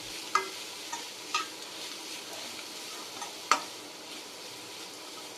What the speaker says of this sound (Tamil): மசாலாவோட ராஸ்மல் போகிற வரையும் நல்லா வதக்கிக்கலாம்.